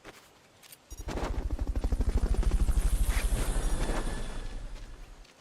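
A video game helicopter in Metal Gear Solid: Peace Walker gives a loud, fast rhythmic rotor thumping that starts abruptly, stays close and strong, then begins fading toward the end.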